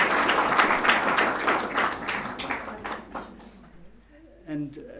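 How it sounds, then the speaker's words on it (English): Audience applause for a guest speaker at a Bhutan dialogue session, dense clapping that thins and fades out over several seconds, followed by a brief voice near the end. "Let's give a round of applause."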